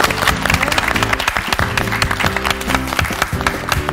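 Studio audience at a Korean TV lecture program claps to welcome a professor, with rhythmic applause under bright music playing throughout.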